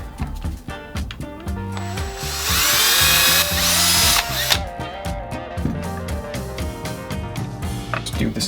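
A power drill boring holes for LEDs in a wooden guitar tone capacitor sampler project, loud and close, with a sustained high whine that swells midway amid steady motor noise.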